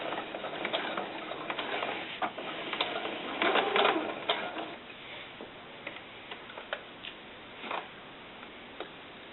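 A sewing machine stitches a quarter-inch seam with a regular straight stitch on doll snakeskin boots. It makes close, fast, rhythmic ticking in short bursts with pauses between runs, and no one speaks.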